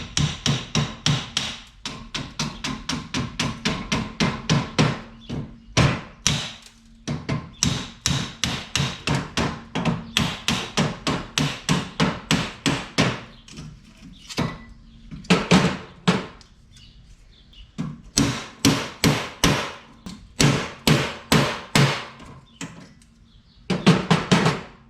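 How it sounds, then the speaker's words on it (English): Hammer blows striking the body panel of a 1951 Chevy Fleetline to break spot welds, loud close metallic hits in rapid rhythmic bursts with short pauses between runs. "I'm just going to see if I can kind of break this little spot welds that are holding everything on here."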